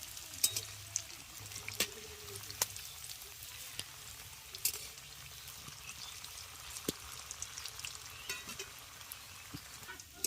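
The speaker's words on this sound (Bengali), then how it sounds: "চার থেকে পাঁচটা কাটলেট একসঙ্গে ভাজা যাবে আর আঁচটা মিডিয়ামে রাখতে হবে" Faint, steady sizzling of four or five vegetarian banana-flower cutlets frying in oil over medium heat, with scattered small pops and crackles, no voices.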